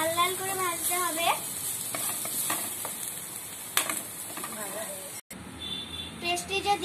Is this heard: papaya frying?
yes